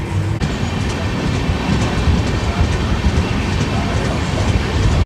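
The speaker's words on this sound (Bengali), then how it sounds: "ট্রেন আমাদের পার করছে বর্ধমান জাংশন" Himgiri Express rushing through Bardhaman Junction without stopping, heard from inside the train: a steady loud rumble with rhythmic clickety-clack of wheels over rail joints, continuous throughout.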